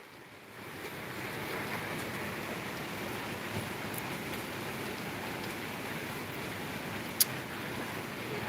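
Heavy downpour in front of a small shop in Palembang, South Sumatra, a steady roaring wash of rain swelling up in the first second and holding constant, with one sharp click near the end.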